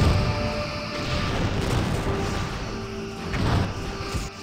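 Torpedo fire during a space battle in Star Trek: Bridge Commander, deep booming blasts under a steady rumble, with a stronger hit near the end.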